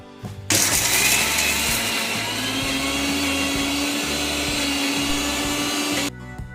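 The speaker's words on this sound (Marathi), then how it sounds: "हे थंड झालेलं वाटण आपण मिक्सर मध्ये टाकून घेऊ आणि ते मिक्सर मधून काढून घेऊ" A kitchen mixer grinder blends a cooled spice paste for a drumstick masala curry, starting abruptly with a loud, close, steady whirring roar that runs about five seconds and then cuts off.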